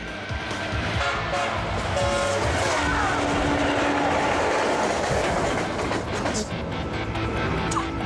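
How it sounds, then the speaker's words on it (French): A locomotive driven at full speed, a loud continuous rumble with rhythmic clickety-clack from the wheels and a high metallic ring running on top. "Pour la troisième fois, Robert pousse sa loco à la vitesse maximale."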